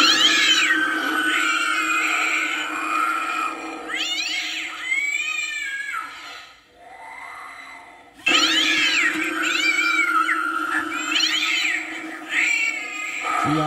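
A Spirit Halloween animated pet urn in sound mode plays loud, repeated electronic cat meows and yowling caterwauls, with a short quieter pause in the middle before the meowing resumes.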